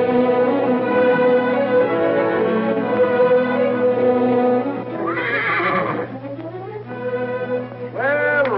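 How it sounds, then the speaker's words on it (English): A horse whinnies in a Western street scene, several rising and falling neighs standing out over steady background sound and music, fairly close and loud, with another short whinny near the end. "Nice little horse you got here, sonny."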